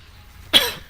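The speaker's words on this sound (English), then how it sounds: "The never-ending cough" A single short, sharp cough bursts out close to the microphone, then trails off quickly into near silence.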